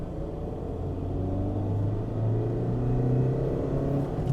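A ten-year-old Škoda Rapid with about 200,000 km on it accelerates while driving, its engine a steady low rumble rising slightly in pitch and loudness, heard from inside the car without talk.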